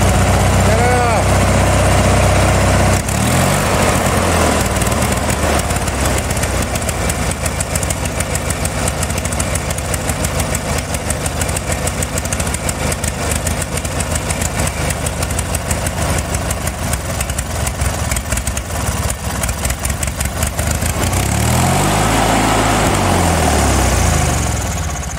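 A Hydro Scag zero-turn mower engine idles loud and close with a steady, throbbing rumble that runs unbroken for the full stretch and rises briefly in pitch near the end.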